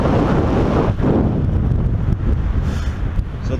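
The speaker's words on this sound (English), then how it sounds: "the wind isn't coming in straight onto these faces, it's actually blowing from behind me" Strong wind blowing across an exposed cliff-top launch spot, blowing from behind, a loud continuous roar buffeting the microphone throughout with no break.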